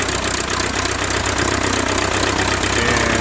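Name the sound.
1912 Taube aircraft engine running with a little throttle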